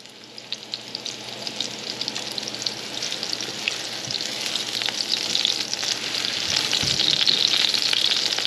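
Halibut sizzles and crackles steadily in hot coconut oil in a pan, a dense, close frying hiss that grows slightly louder over the stretch, with no talking.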